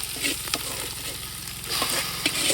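Tomatoes tipped into a hot frying pan for a village meat-feast curry, giving a steady close sizzle with a few brief stirring scrapes and clicks.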